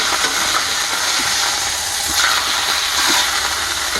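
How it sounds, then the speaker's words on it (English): Steaks with Montreal seasoning searing in a hot pan inside a heated winter camping tent, a loud steady hiss with faint soft pops and thuds beneath, no talking. "Flip these. Give them a quick flip. That pan's hot. Getting a good sear on there."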